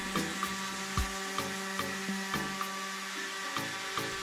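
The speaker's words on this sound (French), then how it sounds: "Une fois le plus gros lissé, j'ai pu continuer à la ponceuse." Electric sander working over a wood and epoxy resin turntable tray, a steady whirring drone broken by regular rhythmic bumps as the tool is pushed back and forth, close and fairly loud with no talk.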